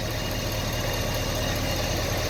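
Supercharged car engine idling at low RPM, a steady, even drone with a fine mechanical vibration running throughout, close and unbroken.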